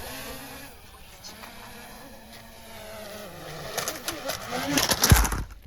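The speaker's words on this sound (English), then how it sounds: "You can hear the sound of the propellers, like something, the sound at the beginning of the flight." A DJI drone's propellers spin up at the start of flight with a steady, insect-like buzzing whine that swells louder toward the end. Close rustling and brief knocks break in over the hum.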